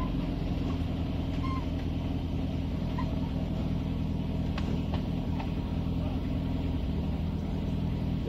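A car drives and accelerates in traffic, its engine a steady low drone heard from inside the cabin at moderate level, with no breaks in the sound.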